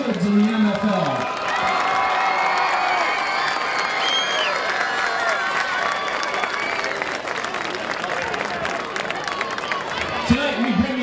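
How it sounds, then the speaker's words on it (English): Stadium crowd at a football game breaks into sustained applause and cheering for children from a youth league, broad and echoing, with shouts rising over the clapping and an announcer's voice at the edges. "Let's give a big round of applause for the kids in the MFL"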